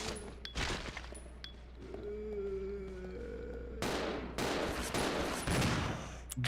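Gunfire from the video game Resident Evil Zero, a burst of sharp shots with booming impacts over low game ambience, several quick reports in clusters, moderately loud.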